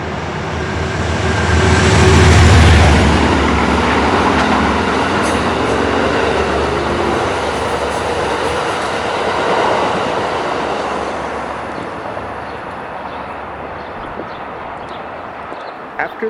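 Amtrak Locomotive 716 passing along a railroad in Riverside Park, New York City: a loud, close rumble swells early, then a long steady roar of rolling cars with faint clatter that slowly fades.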